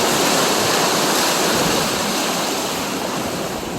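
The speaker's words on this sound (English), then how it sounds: "the water is now lapping under this bridge. It's actually lapping under the steel here." Floodwater after a storm surges and laps beneath a steel road bridge, a steady dense rushing wash held at constant loudness throughout, close and continuous, with no voices.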